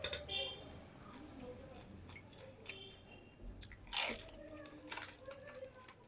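Soft crunches and wet chewing of spicy gutkha during an eating challenge, fairly faint, with a sharper bite around the middle and people talking throughout.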